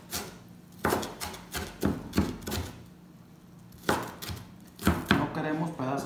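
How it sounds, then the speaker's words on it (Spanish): Knife chopping onion on a board, sharp close taps in quick bursts separated by pauses, fairly loud with some faint kitchen background. "si me puedes decir tu forma de picar la cebolla"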